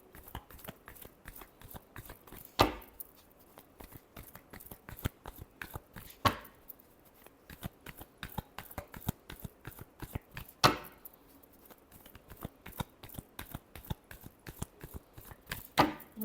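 Tarot cards are shuffled in quick, faint riffling taps and slaps, a continuous soft patter with a few louder snaps spaced through the stretch, with no talking.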